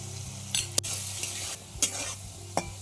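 Potato pieces, salted, fry in oil in a pan for jhinge alu posto, a steady low sizzle broken by a few sharp stirring scrapes and clinks of a utensil against the pan.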